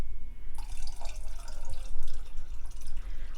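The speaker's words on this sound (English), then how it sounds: "I add in my water, in my gallon of water" Water from a tap runs and splashes steadily as it pours into a plastic gallon jug for mixing a houseplant fertilizer solution, close and continuous for a few seconds with small gurgling fluctuations.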